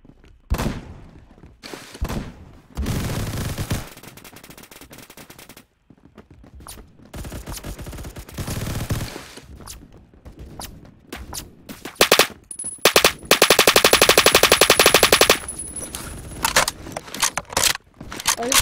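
Gunfire in a Roblox shooting game on a sniping map, with bursts of rapid automatic fire and single sharp shots in irregular clusters, loud and close, separated by quieter gaps.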